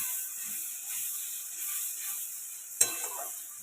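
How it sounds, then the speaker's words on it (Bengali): Spice paste for aloo dum frying in a pan with green peas, a steady soft sizzle running throughout with one sharp clink of a utensil near the end. "মা একটু লাল লাল করে মশলাটা কষিয়ে নিয়ে তার মধ্যে মটরশুঁটিটাও দিয়ে দিল।"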